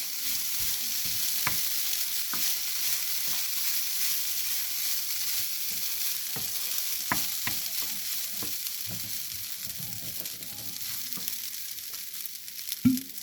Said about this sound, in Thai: ใส่พริกหยวกลงไปนิดนึงเพิ่มสีสันนะคะ ผัดนิดเดียว